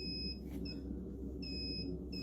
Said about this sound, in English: A power outage in one of the storage rooms was causing the fire alarm to go off.